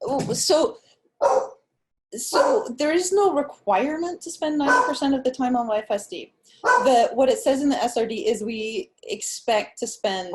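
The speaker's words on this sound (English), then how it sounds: "Sorry for the dog in the background." A dog barks and yips intermittently in the background of a home while someone talks steadily over it during an online science meeting.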